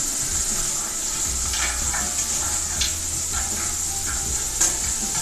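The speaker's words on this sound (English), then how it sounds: "I'm going to let these saute for 4 or 5 minutes." Vegetables sauté in a pan for a beef and barley soup, a steady close sizzle with occasional stirring scrapes and clicks, a low hum underneath, and no talking.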